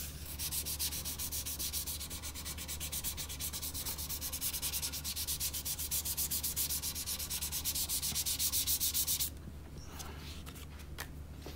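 Steady back-and-forth rubbing of 1000-grit sandpaper on a guitar nut during a nut replacement, loud and continuous for about nine seconds, then stopping into quieter handling noise.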